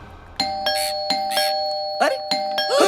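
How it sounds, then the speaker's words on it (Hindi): A doorbell rings repeatedly in a home in a Bollywood comedy, with sharp repeated chimes over several seconds and a voice speaking briefly between them. "कोई घंटी बजा रहा है और तुम दरवाजा नहीं खोल रहे हो?"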